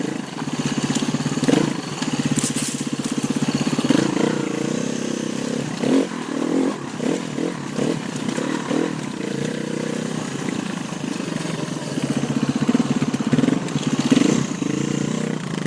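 A KTM motorcycle riding off-road on rough, technical terrain, its engine droning steadily and revving unevenly as the rider picks through obstacles, close and loud throughout.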